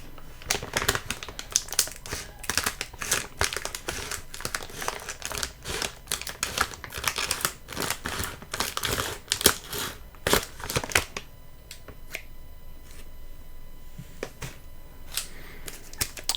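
Close crinkling and crackling of a foil bag of bacon crisps with sharp snips of scissors cutting it open, then quieter rustling.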